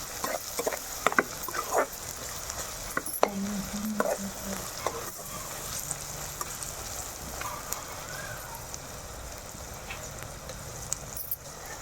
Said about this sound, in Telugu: మనం సాల్ట్, పసుపు, అల్లం వెల్లుల్లిపాయ పేస్ట్ వేసుకుంటే ఉల్లిపాయలు మనకు తొందరగా అయితే మగ్గిపోతాయండి